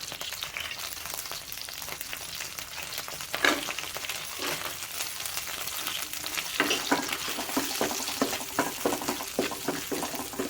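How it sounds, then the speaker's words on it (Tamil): Cashews and raisins frying in butter in a small pan for kesari, a dense, steady close sizzle with light stirring scrapes that grows slightly busier toward the end. "முந்திரி திராட்சையை நம்ம ஃபர்ஸ்டே நம்ம வறுத்து எடுத்துருவோம்"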